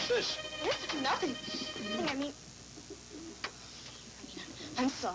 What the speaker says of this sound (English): This here's a pigeon Pop released.